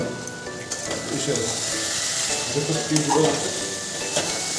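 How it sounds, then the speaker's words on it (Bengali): Potatoes frying in a pan at home give a steady close sizzle with occasional stirring scrapes, while people talk over it the whole time. "না আলু ভাজি করছি"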